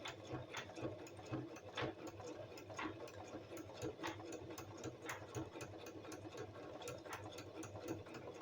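A sewing machine stitches steadily and close by, its rapid mechanical ticking punctuated by regular clicks, running alone with no voices over it.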